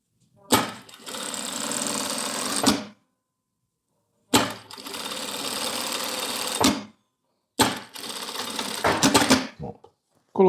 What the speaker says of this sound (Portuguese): vou colocar um zíper em uma das partes